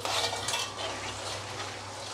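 Nikuti, small Bengali fried sweets, frying in a pan: a steady broadband sizzle with faint clinks of a utensil, continuous and close, no voices.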